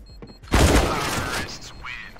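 Gunfire from Counter-Strike: a sharp onset followed by a dense, rattling burst of shots lasting over a second, loud and close, with a brief voice heard before it.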